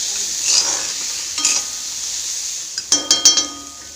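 Spice paste with turmeric and salt frying in a pan, a steady sizzle with a few scrapes and clinks of a utensil stirring against the metal, growing busier toward the end.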